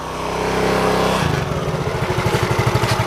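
A motorcycle engine running close by, a loud steady drone that settles into a rapid, pulsing idle throb.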